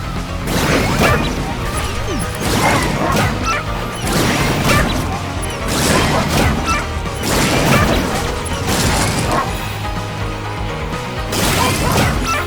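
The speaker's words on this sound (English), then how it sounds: "you have to blast through the glass here" Glass panes shatter repeatedly in the video game Astro Bot as the character blasts through them, loud crashing bursts recurring every second or two over continuous game music.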